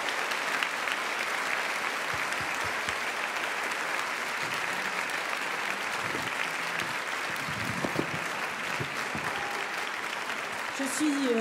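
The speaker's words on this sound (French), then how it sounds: "je crois qu'on peut réapplaudir tous nos jeunes talents parce qu'ils sont jeunes" A large audience applauds steadily for young fashion talents at a virtual fashion show event, dense continuous clapping throughout with faint voices underneath.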